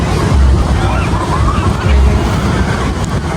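Ocean surf at a beach, a loud rush of breaking waves with heavy wind buffeting the microphone, low swells rising and falling in a steady churn.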